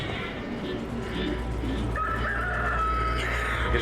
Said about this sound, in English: Gonna have to fight the giant chicken